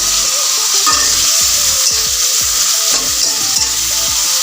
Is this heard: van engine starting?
no